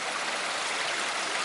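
Water flows in a steady, even rush from inside a hill at Shangri-La Arch in Carter Caves, Kentucky, a constant close stream with no other sounds.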